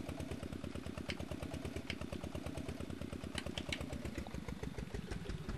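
Tractor engines idle in the farming simulation game Professional Farmer 2014, a steady low rumbling chug with rapid even pulses running continuously, fairly loud and close, with faint clicks on top and no talk.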